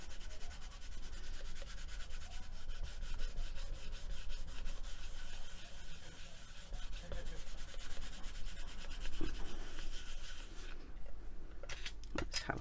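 Steady, continuous rubbing and sanding over the joint of a faux paua shell inlay pendant, a close, even scratchy texture that holds throughout before a few sharp clicks at the end.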